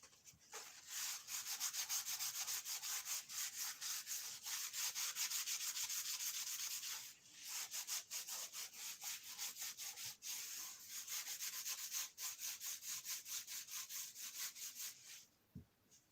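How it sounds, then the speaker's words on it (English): Kitchen roll soaked in WD-40 is scrubbed back and forth over a dirty metal part in a workshop, making quick, repeated dry rubbing strokes with a few short pauses, close to the microphone. "Bit of WD-40. That's not even an abrasive cloth, that's just a bit of kitchen roll."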